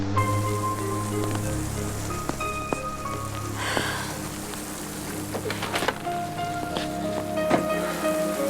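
Steady rain pours down on a surface outdoors, a dense continuous patter with scattered louder drops, while faint music-like tones and background sounds sit underneath.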